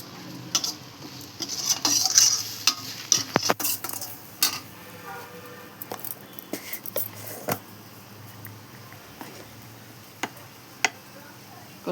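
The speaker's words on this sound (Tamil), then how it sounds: "நல்லா எண்ணெயில் வதக்கணும்." Stirring while sautéing in oil in a pan for kidarangai thokku gives repeated metallic spoon scrapes and clinks over a soft background hiss, irregular and close.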